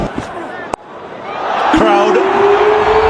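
A stadium crowd roars and cheers after a wicket falls at an India versus England T20 cricket match, rising from a sharp knock into a sustained, swelling din with a tone sweeping through it.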